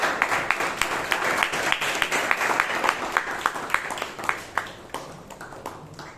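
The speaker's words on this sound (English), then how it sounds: "Round of applause" A Toastmasters meeting audience applauds as a distinguished Toastmaster is introduced, with a steady wash of many clapping hands that thins out toward the end.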